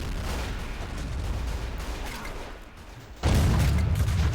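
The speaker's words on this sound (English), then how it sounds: "The mortar is firing." Mortar fire and battlefield booms in a WW1 trench warfare video game: a steady rumbling barrage, then a sudden louder, closer blast of sustained firing near the end, no talk.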